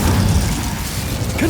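An Incendio fire spell is cast in Hogwarts Legacy, a loud, low, whooshing burst that rumbles for over a second, with a brief rising chirp near the end and no talking.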